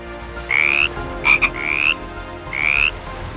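An African bullfrog gives a warning call: three or four loud, penetrating rising cries, each under half a second, with a short double burst between them over a quiet background.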